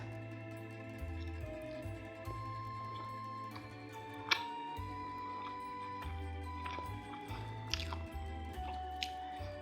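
Someone chews an egg wrap keto pizza close to the mic. Soft, wet squishing bites and chewing come in an uneven rhythm over a quiet steady background tone, with no talk.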